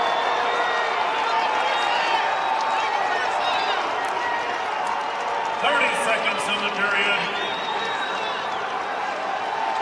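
A college wrestling arena crowd at a Big Ten 174-pound bout, Nebraska against Minnesota, roars in a steady sustained wash of cheering, swelling louder partway through, with an announcer talking over it.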